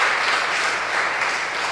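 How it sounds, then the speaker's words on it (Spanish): Audience at a lecture on underwater cultural heritage applauding to welcome a speaker, a dense, even wash of many hands clapping together, steady and fairly loud throughout. "Vamos a recibirlo con un fuerte aplauso."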